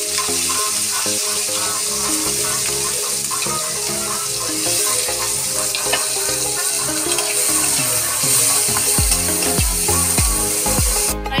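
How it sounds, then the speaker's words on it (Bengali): Shrimp frying in hot oil in a kadai wok, cooked for a banana-flower shrimp dish, gives a loud, steady sizzle that runs the whole time with no talking, over faint tonal background sound. "তেল গরম হয়ে গেছে, এবার আমরা চিংড়ি মাছটা দিয়ে দিচ্ছি।"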